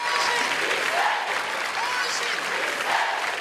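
Sustained applause from a crowd gathered at a wake held in the Municipal Chamber in Cinelândia, Rio de Janeiro, steady and dense throughout with no pauses.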